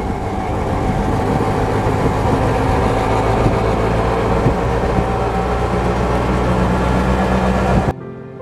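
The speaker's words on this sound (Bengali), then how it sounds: "আমাদের অটো আস্তে আস্তে পাহাড়ি পথ ধরে উপরে উঠতে লাগলো" An auto rickshaw climbs a hilly road toward the Ajanta caves in the Western Ghats, its engine a loud, continuous, close drone that holds steady before cutting off abruptly near the end.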